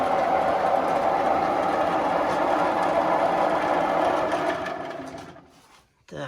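A lathe turns a part for a 1938 DKW crankcase and BMW R35 gearbox in a workshop, giving a steady, loud whirring drone with a faint rhythmic rattle that fades out near the end.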